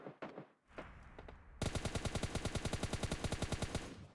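Rapid automatic gunfire in PUBG Mobile Lite. Bursts start after a moment of quieter game noise, then a loud, steady string of close shots about eight per second runs to the end.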